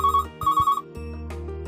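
A telephone rings on a Hindi-language call-in show, two loud electronic trill bursts close together, followed by a steady background hum.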